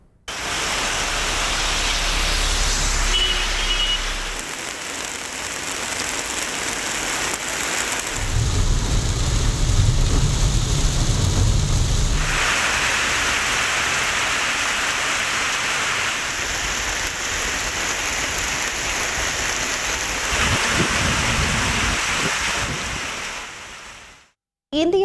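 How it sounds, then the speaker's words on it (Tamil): Heavy summer rain pours down in Tamil Nadu as a dense, steady roar of broadband hiss. The wash swells and thickens in places and continues almost unbroken for the whole stretch. "கனமழை பெய்து வருகிறது"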